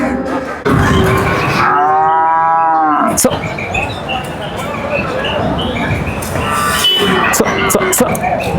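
At a busy cattle market in Poigai, a cow gives one long, loud, nearby moo, with crowd murmur, people talking and other market noise around it.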